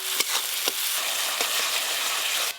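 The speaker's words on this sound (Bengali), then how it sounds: "মাছের তেল ঝাল রান্নার জন্য এই মশলাগুলো খুব বেশিক্ষণ কষতে হয় না, একটু হালকা করে কষে নিয়েছি" Whole mustard, poppy seeds, dried red chillies and cumin with turmeric, salt and chopped tomato sizzle steadily in hot oil for a Bengali fish jhal, with a few sharp stirring scrapes over the close, continuous frying hiss.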